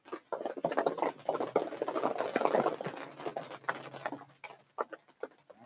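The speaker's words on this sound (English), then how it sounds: "Sounds like maybe some more rain coming through." Light patter of rain falls in scattered taps and drips at a plant nursery, with a soft wash of steadier rainfall in the middle, fairly quiet.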